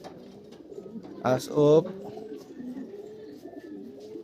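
Pigeons coo at a loft, with soft repeated low cooing throughout and one louder, close call near the middle, cut across by a brief voice.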